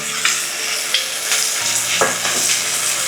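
Garlic and carrots fry in a pan as part of Thai shrimp fried rice, giving a steady bright sizzle with several scraping stirs of a utensil across the pan, and no one speaking.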